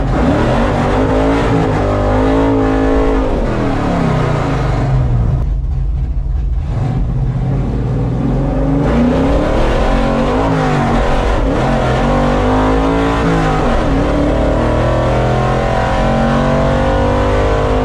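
A four-wheel-drive small-block Chevy drag car at Benaraby Dragway revs loudly and continuously, its engine note rising and falling close by with a brief dip midway, no talking.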